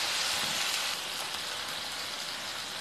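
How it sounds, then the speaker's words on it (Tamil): Tomatoes sautéing with fennel seeds and asafoetida in a pan, a steady, even sizzle and hiss running throughout at moderate loudness with no other sounds. "லைட்டாக 4-5 சோம்பு, கொஞ்சோண்டு பெருங்காயம் ஆட் பண்ணி நல்லா வதக்கிக்கலாம்."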